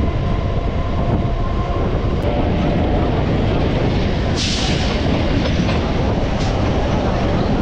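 Local train running from Kolkata towards Kakdwip, a steady loud rumble of the carriage on the rails throughout, with a brief hiss partway through.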